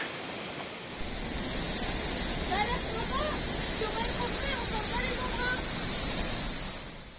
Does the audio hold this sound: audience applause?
no